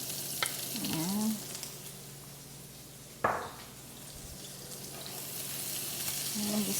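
Garlic and pork sautéing in a pan for binagoongang baboy give a soft, steady sizzle, broken by a sharp utensil clank near the middle.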